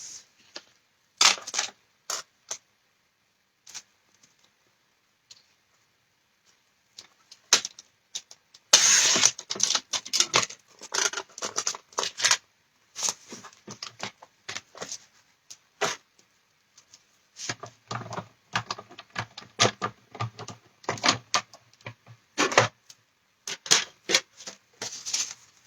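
A piece of card is trimmed with a cutting tool, giving irregular bursts of sharp mechanical clicks and snips with silent gaps between them. The clicks come in quick clusters that grow denser partway through.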